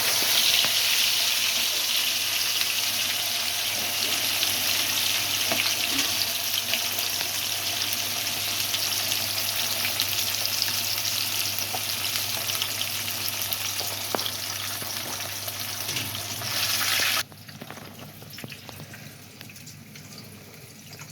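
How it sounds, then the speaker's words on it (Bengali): Marinated fish fry two pieces at a time in hot oil for a fish fry party, giving a loud, steady sizzle close by that carries on without pause and then drops off sharply near the end. "দুটা করে ভাজা হবে, একবারে দুটা করে ভাজা হবে।"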